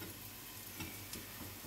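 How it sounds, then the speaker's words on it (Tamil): Coriander seeds and curry leaves roast in a hot pan during home cooking of a chicken biryani and prawn pepper fry, giving a steady close sizzle and crackle with faint stirring scrapes and no talking. "கடைசியாக இதை ஆஃப் பண்ணுறதுக்கு முன்னாடி கொஞ்சம் கருவேப்பிலை போட்டு அது கூடயே சேர்த்து ரோஸ்ட் பண்ணிக்கலாம்"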